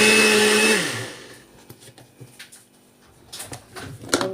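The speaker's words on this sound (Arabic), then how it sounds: "هضربها في الخلاط عشان تنضرب وتبقى حلوه" An electric blender whips cream for a mango jelly dessert, running loud and steady, then its whir winds down and stops, followed by scattered clinks and taps.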